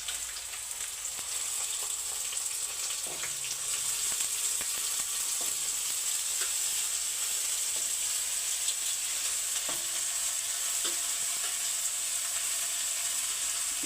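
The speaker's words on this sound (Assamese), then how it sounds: "এতিয়া বেতৰ গাজা আৰু আলু বহাই দিলোঁ।" Cane shoots and potatoes fry in hot mustard oil, giving a steady, even sizzle with faint crackles throughout and no voices.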